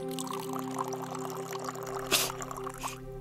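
Sterilizing liquid poured onto a wound in the Junktown video game, a brief soft splash over a steady hum of background music, with a sharper pour burst near the middle.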